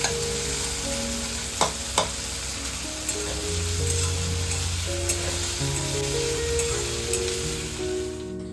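Onions and boiled potatoes fry in a home kitchen pan with a steady, fairly loud sizzle and a few sharp clicks of stirring, under continuous background music and without speech.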